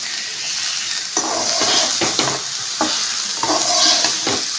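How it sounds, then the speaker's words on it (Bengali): Shapla, water lily stems with salt, sizzling in a pan as they are stirred and turned, with steady frying hiss and repeated scraping strokes of a spoon close by. "এবারে উল্টে পাল্টে লাড়া দিতে হবে"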